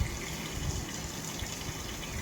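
A washing machine filling with water, a faint, steady rushing trickle that runs on without a break.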